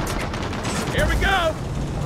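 Rapid gunfire rattles in a Gears of War 4 battle as shots hit bombs, a dense continuous barrage with blasts mixed in, while players talk over it.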